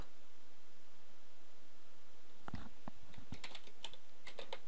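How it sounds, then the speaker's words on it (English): Computer keyboard typing starts after a quiet stretch, a short burst of scattered clicky keystrokes at close range with no talk. "you could change the name that way just by typing over it"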